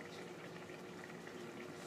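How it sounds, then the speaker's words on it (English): Home dishwasher running in a kitchen, a faint, steady wash of water sloshing and pump noise with no distinct breaks, low in level and continuous from start to finish. "Oh, Kaden, you started the dishwasher?"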